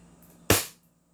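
A KP19 airsoft pistol fires a single sharp, close shot through a chronograph: one loud crack with a short decaying tail, set against quiet room tone and no talking.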